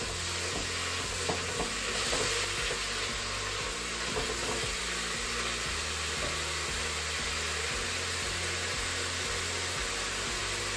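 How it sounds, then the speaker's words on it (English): A spoon stirs a sizzling chilli mix in a hot pan after a crumbled stock cube goes in, giving repeated scraping strokes over a constant hiss of frying. "we just want to give that a good mix"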